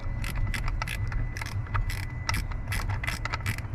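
A ratchet wrench turns a bolt on a Chevrolet Tahoe with the fender removed, giving quick bursts of metallic clicking in short rhythmic strokes, close and fairly quiet against a low background hum.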